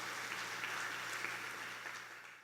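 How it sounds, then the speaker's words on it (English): Faint applause for a young musician at a hall event, a steady even wash of many hands clapping that tapers off at the end, with a low steady hum underneath. "Let us give her a big round of applause"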